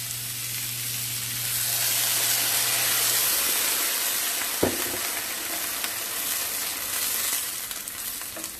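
Cabbage with bouillon boiling hard in a skillet over high heat, a steady close sizzle and bubbling hiss throughout, with a low hum early on and a brief clink midway.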